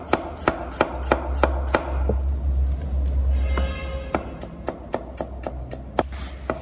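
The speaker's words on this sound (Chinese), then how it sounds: "一小块生姜给它切成末" A knife chops a small piece of ginger into mince on a board, giving a close, crisp series of regular strikes, then a brief pause with a low background hum before the quick rhythmic chopping resumes.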